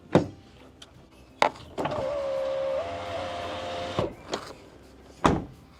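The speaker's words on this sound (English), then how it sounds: "push them all the way up, and then roll your window up." Ford Maverick power window rolling up: a steady electric motor whine lasting about two seconds, with its pitch shifting as the glass nears the top, surrounded by a few sharp clicks and knocks.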